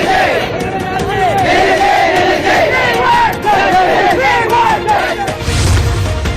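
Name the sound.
protesting crowd shouting slogans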